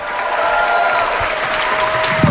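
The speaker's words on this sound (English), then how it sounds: "keep that round of applause going for your first comedian, Perri Cassie." Audience applause for a comedian at a comedy podcast show: loud, dense clapping with whoops and cheers from the crowd, steady throughout with a brief louder burst near the end.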